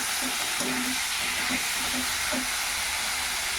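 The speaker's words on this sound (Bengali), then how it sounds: "এবার আমি মাংসটা দিয়ে দেবো। এইভাবে ভালো করে একটু নাড়াচাড়া করে নেব" Meat frying in a pan in a home kitchen, a continuous hiss with a few soft scrapes of stirring, steady and close.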